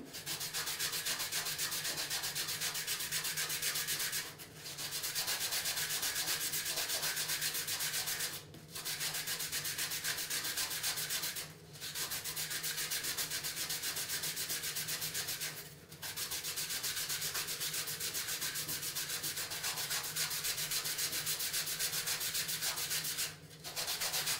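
A charcoal stick is shaved with a blade into a long drawing taper, producing steady, close scraping strokes that run continuously for several seconds each, broken by four brief pauses.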